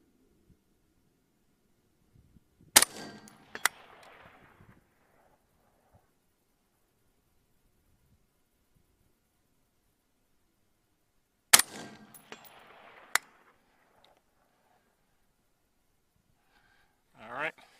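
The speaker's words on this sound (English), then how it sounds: "So we'll go ahead and fire off 2 shots." Two pairs of sharp, loud rifle reports crack out several seconds apart, fired at a small steel target on a range, each followed by a brief ringing decay, with near silence in between.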